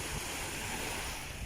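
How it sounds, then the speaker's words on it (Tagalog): Strong high-tide waves wash onto the shore at Baseco Beach in Tondo, Manila, a steady, loud roar of surf mixed with wind buffeting the microphone, continuous throughout with no voices. "Ito po dahil high tide po ngayon, malakas po ang alon ng tubig."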